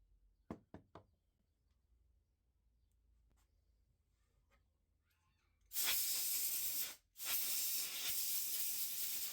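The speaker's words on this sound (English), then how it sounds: "we're going to spray that out with some air and also some of this Penn grease." Compressed air blasts out of spinning fishing reel handle parts in two long, loud hissing bursts with a brief gap, preceded by a few sharp knocks and quiet handling.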